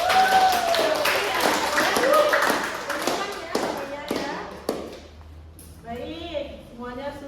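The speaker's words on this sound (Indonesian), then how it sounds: "Tepuk tangan lah buat kita." A classroom group claps hands together in a loose, scattered round of sharp claps that thins out over several seconds. A voice follows at the end.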